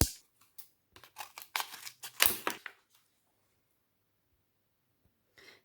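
Packaging of a Max & More satin lipstick, shade 327, is opened with a quick run of soft crinkling, tearing and plastic clicks, close and quiet, followed by near silence and a faint rustle at the end.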